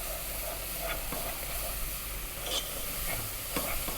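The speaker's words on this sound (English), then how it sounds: "keep this on a low heat, stirring all the time, non-stop" Milk is being stirred into a white sauce in a pan over low heat, giving a soft, steady hiss with a few faint scraping strokes of the spoon, heard alone and up close.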